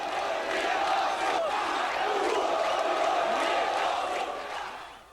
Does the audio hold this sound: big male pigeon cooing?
no